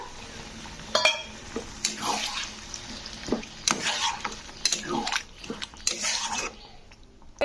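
Water used to rinse spices is poured over sautéed kohlrabi and other vegetables in a pan, bringing a soft sizzle and watery splashing along with repeated scrapes and clinks of a spoon stirring against the metal.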